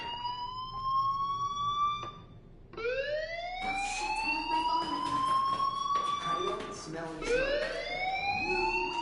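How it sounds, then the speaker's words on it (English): Fire alarm in the video game Life is Strange wails in long rising electronic tones, loud and repeating, with a brief break before resuming and faint voice-like sounds underneath. "do you hear that fire alarm? That means you should be outside."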